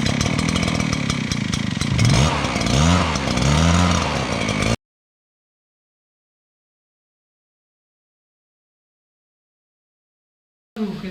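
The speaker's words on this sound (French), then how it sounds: "Et enfin on tire sur le lanceur pour démarrer le souffleur." A petrol leaf blower's engine runs loud and close for several seconds after a pull-cord start, then cuts to silence before briefly roaring again at the end.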